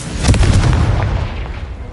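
Confringo fire spell blasts in Hogwarts Legacy, a loud booming explosion with a sharp crack near the start and a rumbling decay trailing off across the clip.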